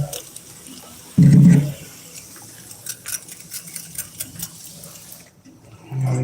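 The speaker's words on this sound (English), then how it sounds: "I might have to go and fill this up with water" Water runs from a tap into a container in a short loud burst, then a quieter stretch of clinks and faint rustling follows before the flow briefly picks up again near the end.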